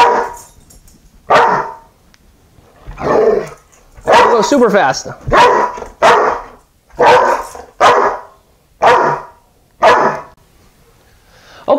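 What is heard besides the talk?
dog barking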